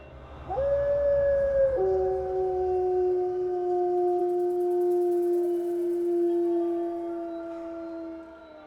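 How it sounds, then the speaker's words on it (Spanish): A distant wolf, somewhere between a howl and a bark, gives one long, sustained, slowly falling wail that rises sharply at the start and then trails off for several seconds, clear and alone with no talking. "oímos una especie de sonido entre un aullido y un ladrido"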